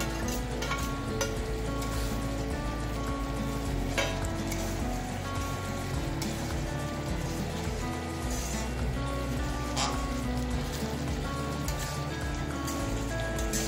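Pointed gourd curry (potol rezala) with fried gourd pieces simmers in boiling water, giving a steady, even bubbling and sizzling that continues without a break.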